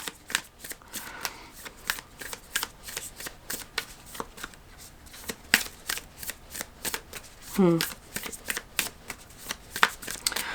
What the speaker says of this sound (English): Let's pull some energy archaeology cards for you.